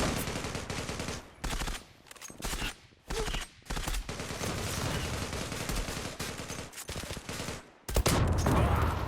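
Automatic weapon fire in the online shooter Zula: loud, sustained rapid-fire bursts broken by brief pauses, close and dominant with no talk over it.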